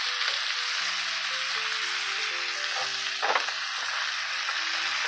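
A bone-in NY striploin steak fries in a pan with a loud, continuous sizzle heard up close, a steady crackling hiss beneath soft background music.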